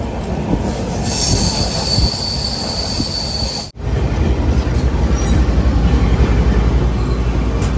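Ala Hazrat Express train running on the Ajmer to Bhuj line with a locomotive from the Gandhidham shed, wheels squealing loudly and steadily over a constant rumble of rolling stock, with a brief dip partway through.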